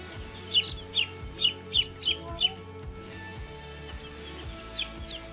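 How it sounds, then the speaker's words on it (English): Twelve baby chicks peep under their heat lamp, giving a run of sharp, high chirps in a quick, uneven rhythm, close by over a low steady background hum. "So look, we now have 12 little chickies hanging out."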